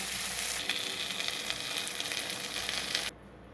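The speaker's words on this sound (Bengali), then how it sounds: "এইবার শুধু কন্টিনিউ নেড়ে চেড়ে এটাকে ভালো করে একটু ভেজে নেব।" Green chilli frying with salt and turmeric in a pan, a close, steady sizzle with the soft scrape of stirring, cutting off near the end.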